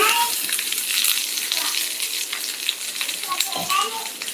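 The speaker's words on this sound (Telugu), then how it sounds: "ఆయిల్ అయితే హీట్ ఎక్కిందండి ఈ స్వీట్ కార్న్ని ఇందులో వేస్తున్నాను" Sweet corn kernels frying in hot oil, a continuous bright crackling sizzle, close and steady, with a few faint clinks and no clear speech.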